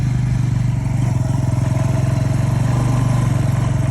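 A motorcycle engine drones steadily while riding on a rural road, a loud, close, even rumble with a fast regular pulse and no breaks.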